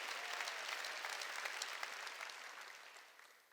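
Church congregation clapping during a Wednesday worship service, a steady, moderately quiet wash of many hands that fades slightly toward the end.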